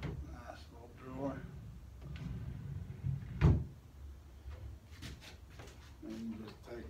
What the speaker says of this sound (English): We'll first show you this drawer down here.